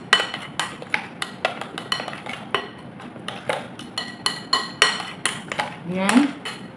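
Flour batter mixed by hand in a bowl with sesame oil: a steady run of close, sharp clinks and scrapes of a utensil against the bowl in a quick, uneven rhythm, with no talking.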